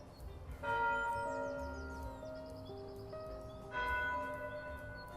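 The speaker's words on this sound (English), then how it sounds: "As the bells tolled one by one" Church bells ring out in layered, sustained tones, with a second strong strike partway through, resonant and fairly near.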